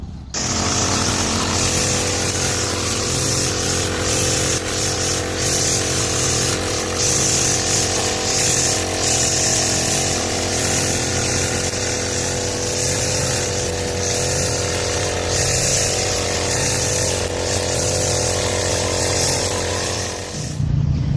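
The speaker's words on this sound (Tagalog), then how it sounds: "Sa wakas natapos ko na rin yung pag-grass cutter dito sa circle." A grass cutter engine runs steadily while trimming tall grass around a circle, a loud continuous buzzing drone with slight fluctuations that holds for the whole span without any talk.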